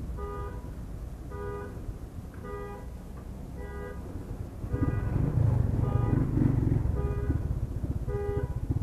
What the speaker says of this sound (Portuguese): Olha lá, olha o carro berrando.